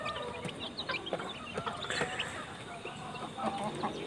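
Free-range local village chickens clucking in scattered, busy bursts over faint scratching and background noise, with no one speaking.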